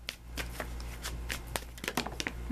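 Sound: tarot cards being shuffled

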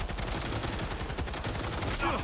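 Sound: machine gun fire in video game Cyberpunk 2077

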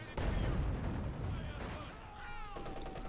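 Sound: sniper shot in the video game Company of Heroes 2

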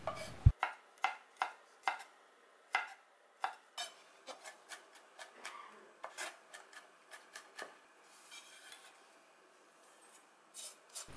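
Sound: mincing garlic with a knife

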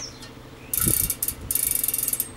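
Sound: Campagnolo Athena bicycle hub ratcheting

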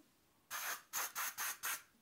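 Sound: spraying fine mist SPF 50 sunscreen spray

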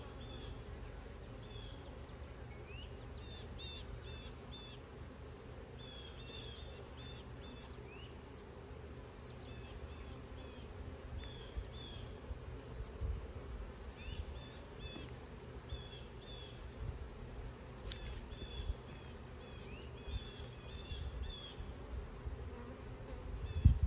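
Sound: honeybees buzzing around an open beehive

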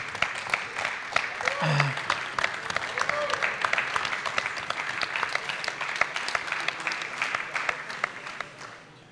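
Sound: audience applause

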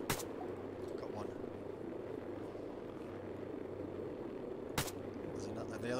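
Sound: gunfire in the video game ARMA 3

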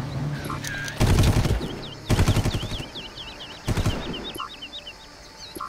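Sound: gunfire in the video game Far Cry

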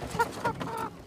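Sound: chicken clucking

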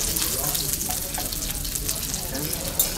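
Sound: lobster sizzling while frying

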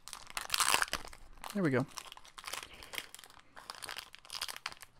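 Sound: tearing open Pokémon card pack wrappers

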